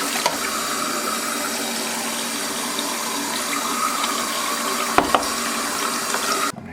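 Running water washing a film print in a darkroom sink, a steady close splashing flow throughout with a couple of small knocks near the end.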